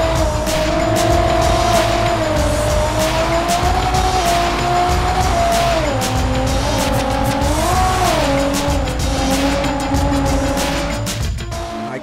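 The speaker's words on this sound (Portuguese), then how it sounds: "Vai, acelera, GTR." A Nissan GT-R in GTA V accelerates hard with a loud, continuous engine roar that rises and falls through gear changes. Tires squeal briefly along the way, close and filling the whole stretch, with no talk.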